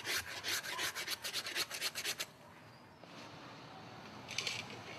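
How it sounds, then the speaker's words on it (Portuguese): A knife scrapes repeatedly across a wet surface in quick rhythmic strokes, close and quiet, then pauses and gives one last short scrape. "ou você usa uma palha pra tirar, ou vem raspando com a faca"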